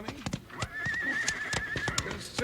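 Horses whinny in a long, wavering cry while hooves clip-clop in a loose, uneven rhythm, close and clear, in an old 1950s Western radio drama scene with the horses hitched outside.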